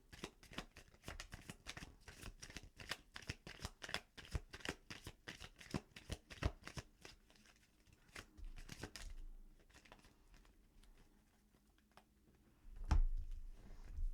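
Tarot deck being shuffled close up, a long run of quick crisp card riffles and flicking slaps, then a pause and a few scattered card taps and a soft thump, no talking.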